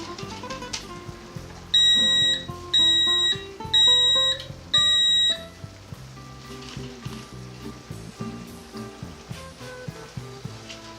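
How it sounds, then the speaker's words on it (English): Paella with prawns sizzling in a pan, a quiet steady frying hiss beneath a burst of loud repeating electronic alarm beeps and clattering, all nearby with no talking. "Just gonna tuck these prawns rather, into the pan wherever we've got a bit of extra"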